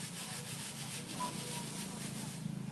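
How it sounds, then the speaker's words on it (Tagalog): Sand and cement being screened by hand to sift out stones while making garden bricks: a steady, close, gritty rubbing and rasping with a faint rhythmic shake, and no talk. "Tapos, ini-screen niya yung painsan at saka simento."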